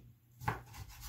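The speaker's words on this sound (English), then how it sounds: "I'm gonna cut this up into about 1-inch" A knife cutting bacon slices into one-inch pieces on a cutting board, a single close chop thud, faint and brief, in a quiet kitchen.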